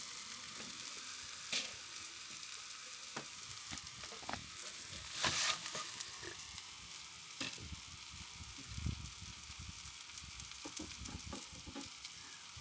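Brussels sprouts caramelizing in a pan at a summer campsite, a continuous close crackle and hiss with frequent sharper pops and occasional scraping stirs, no voices.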